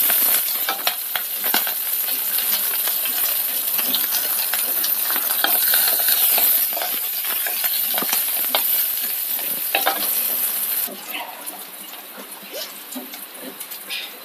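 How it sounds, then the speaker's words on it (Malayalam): Green chillies and curry leaves sizzle steadily in hot oil for a fish curry, a loud, dense crackle heard up close with occasional stirring clinks. The sizzle drops slightly toward the end. "ചൂടായ എണ്ണയിലേക്ക് പച്ചമുളക് ചേർക്കാം. അപ്പം കറിവേപ്പിലയും ചേർക്കാം."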